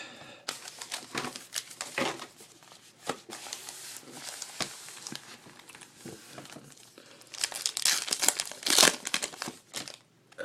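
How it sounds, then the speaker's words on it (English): Close, crinkly rustling and tearing of foil packs as 2012 Topps Allen & Ginter's baseball cards are pulled out, irregular bursts that grow busier and louder near the end. "Pull the cards out of here."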